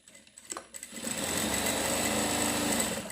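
An electric sewing machine stitching a pocket seam on a full-flare palazzo runs close by in a steady, loud whir, after a few brief clicks and starts at the beginning.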